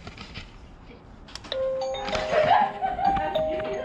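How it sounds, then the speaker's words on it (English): A HeimVision Greets C1 WiFi 2K hardwired video doorbell chime rings indoors, sounding a melodic ding-dong that rises partway through and sustains clearly over faint room noise and light background chatter. "So we've got the chime sitting over here."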